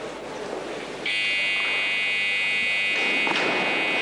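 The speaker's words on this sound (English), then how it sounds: "It's the buzzer indicating that he has 30 seconds to complete the lift." A loud, steady electronic buzzer at a weightlifting competition sounds and holds for several seconds over a faint background murmur.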